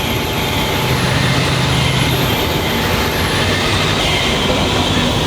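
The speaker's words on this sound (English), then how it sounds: "the truck's engine is screaming" A truck engine, Outback road train running at night near roadworks with a failing fan belt, whining loudly and continuously under heavy roaring road noise, with a high thin squeal drifting in pitch.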